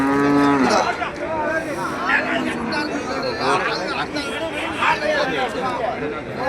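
Cattle at a livestock market in Melapalayam: a loud, close moo opens, then the animals are heard amid a busy crowd of people chattering and bargaining throughout.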